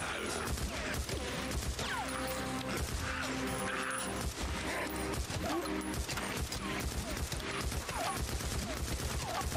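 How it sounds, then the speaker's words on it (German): Sustained gunfire in the video game Days Gone, continuous rapid shots unloading without pause over game noise, loud and close throughout. "ich verballere gerade sämtliche Munition hier rein"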